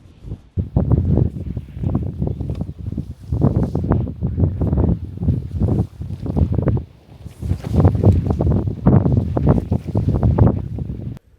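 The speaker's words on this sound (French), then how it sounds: "par contre, c'est vrai qu'il y a pas mal de vent." Strong wind gusting at a campsite, roaring against the microphone in long surging waves that rise and fall throughout, loud and continuous with no voices.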